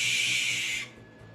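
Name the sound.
barn owl call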